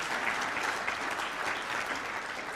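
Audience applause at a 2022 State of the City address, a steady, dense wash of many hands clapping at moderate level throughout, with no voices standing out.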